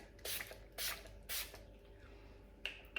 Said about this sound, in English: I'm going to spray my face again, making sure that everything's looking okay now.